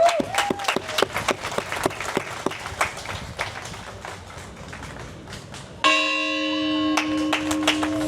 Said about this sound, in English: Thank you for coming today to our 4th of July bell ringing ceremony.